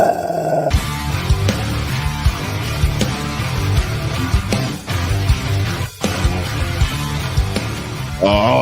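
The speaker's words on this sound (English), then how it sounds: "When you hear that dog growl, you know we're calling out for our dogs." A dog growls, a deep rumbling snarl woven into loud music in the intro of an NFL football talk show.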